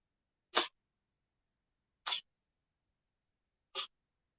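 Three brief, quiet sneezes come from a person in a quiet room, evenly spaced roughly a second and a half apart, each a short stifled burst with silence between.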